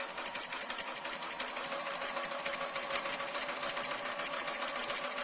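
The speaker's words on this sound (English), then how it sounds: "I'm now going to stitch either side of the ribbon and hold the whole thing together." A sewing machine stitching ribbon onto a layered quilted needlecase, a steady, rapid mechanical whirr running continuously at close range.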